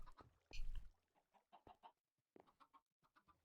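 Minecraft chickens clucking in a series of short, separate bursts, starting with one louder close cluck and followed by quieter, evenly spaced clucks against a silent background.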